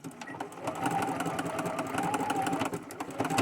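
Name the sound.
sewing machine sewing 3-step zigzag stitch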